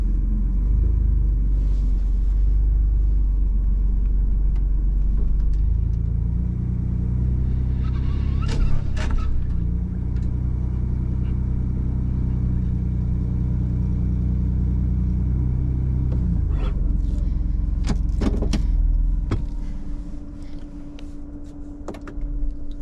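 A 2021 Ford Bronco idles with a quiet, steady low rumble, joined midway by a deeper hum and a few sharp clicks and knocks before it softens near the end.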